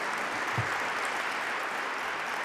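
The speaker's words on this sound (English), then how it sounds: "I want to applaud all of them, all of our advocates who are here today." An audience at a governor's gun violence announcement applauds survivors and advocates, a steady, dense crowd clapping that stays even and moderately loud from start to finish, with no speech over it.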